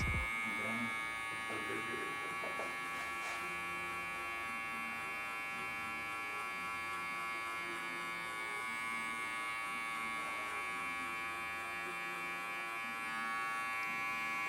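Electric hair clipper buzzing faintly and continuously while cutting a mid fade with a textured crop, a steady hum under a person talking throughout.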